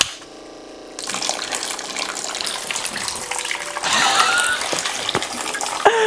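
Water pours and splashes steadily through a homemade fantasy-tower fountain as its pump is switched on, starting from near silence after about a second, then a continuous close trickle that grows fuller and brighter midway.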